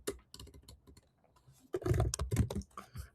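Rapid typing on a computer keyboard while entering code, irregular clusters of close key clicks, sparse at first then denser and louder toward the end, with no talking.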